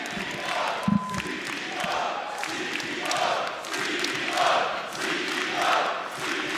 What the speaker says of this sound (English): I need to hear the crowd go crazy.